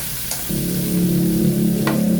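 Onion and garlic sautéing in a pan for a Filipino pork gising-gising dish, a steady close sizzle that swells after a brief quiet start, with two faint scrapes of stirring and no talking.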